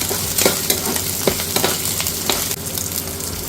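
Chopped onions hit hot oil in a pan and fry with a steady loud sizzle, punctuated by the scrape and clatter of a stirring spoon, with no one speaking.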